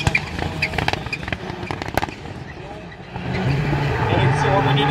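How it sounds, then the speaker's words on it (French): Rallycross race cars passing at Dreux, with engines roaring and crackling near then fading to a steadier drone as another car approaches, under French race commentary. "premier passage pour le pilote Maïené"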